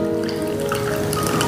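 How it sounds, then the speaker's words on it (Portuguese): Water poured onto plaster set in a pot to fix an artificial plant, giving a steady close trickle and dribble of liquid with faint dripping throughout, continuous and fairly loud, with no talking. "Então, eu coloco de novo a água."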